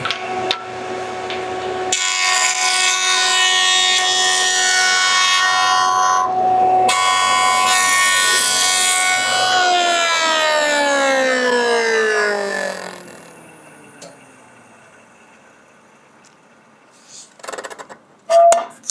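A jointer planer drones loudly and steadily with a whining tone as it planes a small board for a window jamb extension, then the motor switches off and winds down, followed by a few faint knocks.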